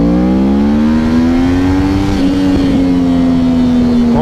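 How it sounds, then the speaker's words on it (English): Sport bike engine revving hard with steadily rising harmonics, a rough gear change near the middle and crackling exhaust pops toward the end, loud and close with no talk. "that was an ugly gear change"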